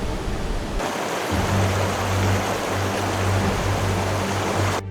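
Angel Falls in Venezuela's Canaima National Park, a very tall waterfall plunging nearly a kilometre, gives a steady, loud broadband roar of rushing water, with a low droning hum underneath through most of the stretch and no voices.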